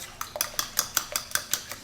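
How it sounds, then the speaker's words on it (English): A spoon scrapes and taps steadily around a bowl as batter for a one-bowl oatmeal recipe is mixed by hand, with about nine regular clinking strokes close by and no voices. "Just mix it up until it's well blended."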